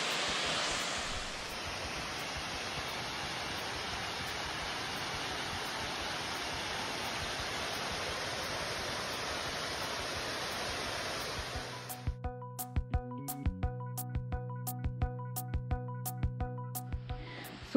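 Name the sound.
Wei Sawdong waterfall, Cherrapunji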